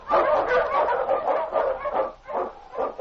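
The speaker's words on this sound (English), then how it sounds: "The Wonder Dog King, swiftest and strongest Eskimo lead dogs, blazes a trail through storm and snow" A husky lead dog barks repeatedly in an old-time radio drama set in the snowy Yukon, a run of loud, close woofs in quick succession with a lo-fi broadcast tone.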